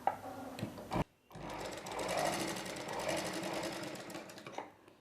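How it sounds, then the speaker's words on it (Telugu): Sewing machine stitching blouse cloth along a marked line, a loud steady whirring run broken by a brief pause near the start before it resumes and continues. "ఈ మార్కింగ్ పై వైపునే కుట్టు వేసుకోవాలి."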